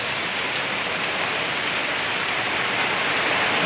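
Heavy rain pours down steadily in Baybay, Leyte, a dense, loud, unbroken hiss of water with no voices.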